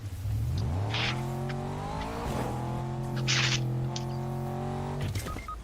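A car in a video game revs and accelerates, its engine tone climbing in steady stepped gear shifts with brief higher-pitched bursts, loud and close with no talk over it.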